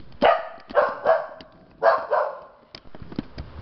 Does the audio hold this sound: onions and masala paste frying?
no